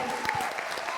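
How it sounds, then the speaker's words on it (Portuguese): A church congregation applauds in a brief, dense patter of claps, close and steady, with voices mixed in. "Aplauda o Senhor."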